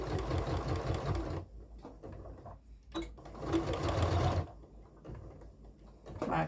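A sewing machine stitches in a steady whirring run while a sewing project is finished, pauses briefly, then runs again in short bursts before a longer loud stretch, close by.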